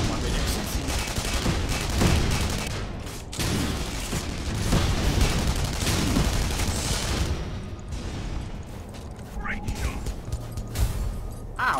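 Dense, continuous gunfire and explosions fill a Tribes Ascend match, with rapid overlapping shots and booms close by and people talking over the fighting.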